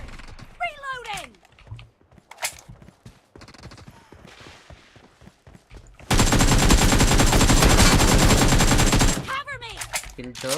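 Video game gunfire breaks out as a loud, sustained burst of rapid machine-gun fire lasting about three seconds, preceded by scattered shots and brief shouted voices and followed by more shouting.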